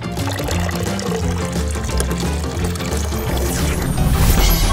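Water pours steadily into a tub, a continuous splashing rush heard over loud background music that swells toward the end.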